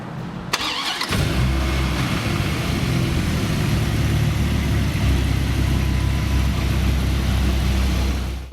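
A Dodge Viper engine, one with cable-driven throttle bodies, turns over and fires after a second of quiet, then settles into a loud, deep, steady idle that runs close-up until the clip ends.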